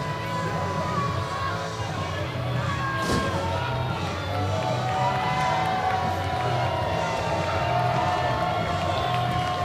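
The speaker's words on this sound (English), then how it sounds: "Oh, wait, listen to the crowd for Gyori." Hockey arena crowd at a minor-league cup final, cheering and whooping steadily for a player, a loud sustained roar of many voices filling the rink throughout.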